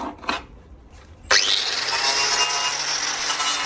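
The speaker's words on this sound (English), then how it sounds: "So I'm going to grind a lot of that back there as much as I need to." Abrasive wheel on a power grinder spinning up and biting into filler on a Peugeot J9 coffee van body, a few faint scrapes first, then a loud, sustained harsh grinding roar close by.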